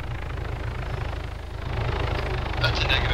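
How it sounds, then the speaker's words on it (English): A helicopter in a video game thuds with a rapid, steady rotor chop and a loud engine drone that swells slightly toward the end, close and prominent, while people talk over it. "helicopter!"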